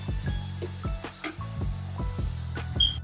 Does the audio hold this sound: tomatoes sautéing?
yes